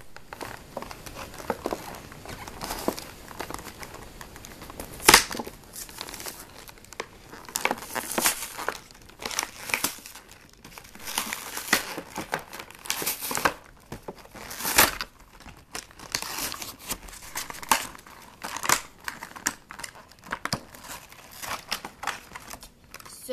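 Skylanders toy packaging being opened and cut: continuous close crinkling and crackling of plastic and cardboard, with scattered sharper snaps and tearing, no talk.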